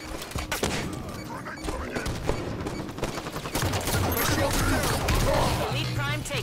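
Halo video game gunfire: dense, continuous bursts of shots and impacts over a noisy battle mix, with crashes and weapon effects layered throughout and a voice speaking over it.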